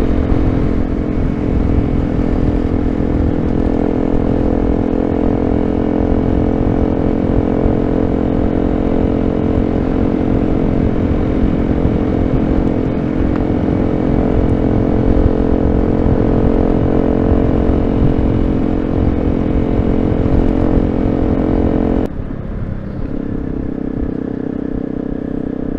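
Honda CRF250L and BMW GS310 motorcycles riding off-road, engines droning steadily and loud throughout with rough clatter from the terrain, the tone dropping slightly near the end.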